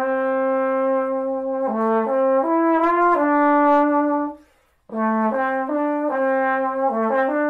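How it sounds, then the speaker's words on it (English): A small bore tenor trombone from 1910 plays a smooth, sustained melody with warm, brassy tones, stepping between notes, pausing briefly midway before continuing; close and solo. "This is a small bore tenor trombone."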